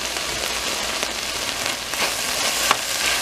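Chicken and broccoli stir-fry sizzles steadily in a hot pan, a dense continuous crackle with a few brief louder spatters, with no talking.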